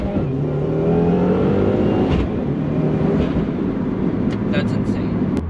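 A 400 whp flex-fuel Subaru WRX accelerating hard out of a corner, its engine droning loud and close with rising harmonics throughout, under steady road and wind noise.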